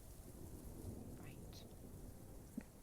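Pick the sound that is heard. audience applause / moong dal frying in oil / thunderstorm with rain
thunderstorm with rain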